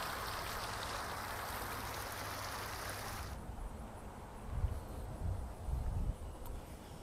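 Water splashes and patters from a town fountain decorated with PVC pipe, a broadband wash that drops off sharply partway through, leaving quieter low rumbles and faint outdoor movement.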